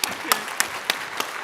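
Conference audience at the ALT 2022 panel applauds the chair taking the stage, a brief burst of steady clapping with a few sharper claps standing out.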